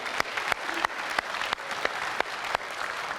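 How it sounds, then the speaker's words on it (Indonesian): Applause from the audience at Indonesia's second 2019 presidential candidates' debate, a steady patter of many hands with a few sharper claps standing out, moderately loud and with no talk over it. "Boleh tepuk tangan untuk memulai segmen ini?"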